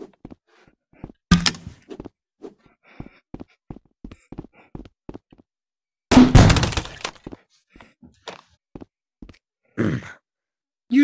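A thrown coconut smashing, heard as two loud, sharp cracking impacts with a burst of rattling debris, surrounded by many small ticks and taps in quiet gaps, with no talking.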